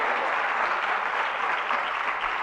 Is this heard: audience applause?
yes